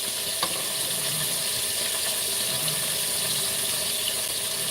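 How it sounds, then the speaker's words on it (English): Vegetables sizzle in a pot as they sauté for Jamaican-style pork chops. The frying hiss is steady and close, with no talk over it. "I'm gonna have to saute on the vegetables first."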